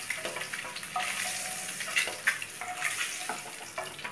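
Eggs frying in oil in a spiced egg fry, giving a steady hissing sizzle close by, broken by light clinks and sharp pops now and then.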